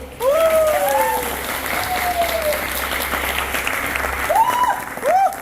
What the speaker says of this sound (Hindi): पहले अपने लिए ताली बजा लो